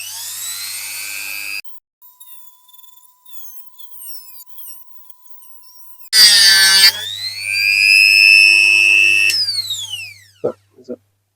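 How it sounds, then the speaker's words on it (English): A rotary multi-tool fitted with a cutting disc bites into diecast parts of a Dinky Toys Ferrari No. 234, loud high whining bursts that rise and fall in pitch, separated by quieter gaps with a faint tone. "just cut them with the multi-tool"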